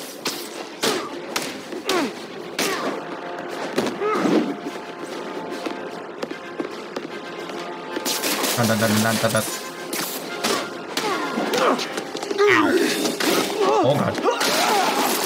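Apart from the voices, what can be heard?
Spider-Man thrown through a wall, from a video game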